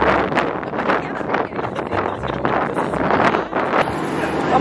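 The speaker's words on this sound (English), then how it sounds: "It was really windy." Strong outdoor wind buffeting the microphone in loud, rumbling gusts that roar continuously on a walk to a coffee shop.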